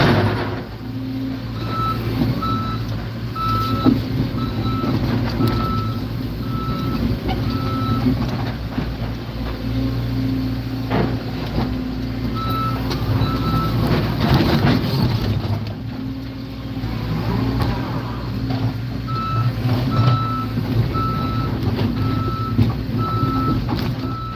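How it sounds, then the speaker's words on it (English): A Cat 317 excavator spins around while demolishing an old dairy farm, its steady reversing alarm beeping at a regular pace over a constant diesel engine rumble heard from inside the cab. "so I gotta spin my machine around."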